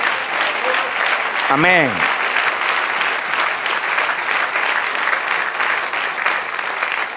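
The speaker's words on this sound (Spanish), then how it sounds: "dele aplauso al Señor" A church congregation applauds steadily and loudly throughout, a dense, sustained wash of clapping; a voice briefly calls out over it near the start.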